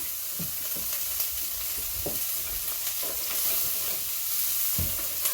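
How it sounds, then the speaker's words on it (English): Onions fry in a pan under a constant close sizzle, with repeated rhythmic scraping strokes as they are stirred, and no talking. "keep that stirring so you don't burn those onions for me, please."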